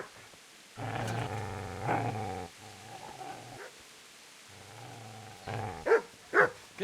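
A dog growls in the video game Kingdom Come: Deliverance, delivering low guttural snarls in bursts with brief pauses and a few sharper yelps near the end, loud and close with no speech.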